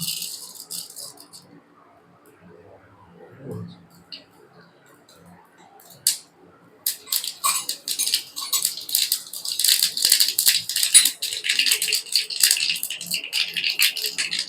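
Mustard seeds crackle and pop in hot oil for a Kerala-style kappa (tapioca) curry. After a quiet start with faint handling noise, a dense, close burst of sharp spattering pops rises midway and continues to the end.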